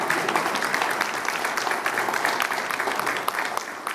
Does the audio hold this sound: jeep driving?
no